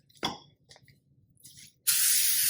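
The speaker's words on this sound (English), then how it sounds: "I'm just using good old canola oil spray here." Canola oil cooking spray is sprayed onto a pan while cooking chicken and dumplings. A few faint kitchen clatters come first, then one steady, close hiss of spray that runs for about half a second.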